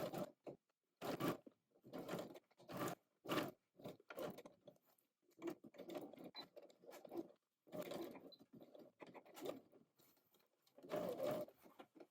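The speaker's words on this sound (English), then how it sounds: "Then stitch along the edge of the waistband all the way around" A home sewing machine stitches along the edge of an apron waistband, sewing across folded ends to form loops. It runs in a dozen or so short close bursts separated by brief pauses, with no talking.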